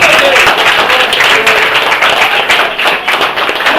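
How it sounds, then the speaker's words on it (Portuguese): A church congregation claps hands in praise during a worship service, a loud, continuous wash of clapping with a voice faintly beneath it. "Louve ao Senhor nesse momento com as suas palmas."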